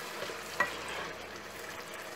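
A spoon stirs and mashes tomatoes into a thickening sauce with lemon peel in a pan, soft scraping and low sizzling with one sharper clink, close and quiet, no talk.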